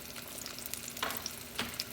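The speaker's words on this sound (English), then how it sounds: "you watch that and listen for the sizzle" Soft steady sizzling and crackling of steak frying in hot oil over medium-high heat, with a few sharper pops, fairly quiet and with no voices.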